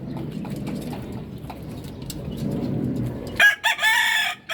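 Roosters crow near the end, loud and close, with one long cock-a-doodle-doo after a couple of short calls, following a stretch of low muffled rumble.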